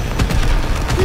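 Gunfire from enemy forces in the World War II shooter game Call of Duty WWII, a dense rattling burst of shots over low rumbling booms, close and loud throughout with no pause.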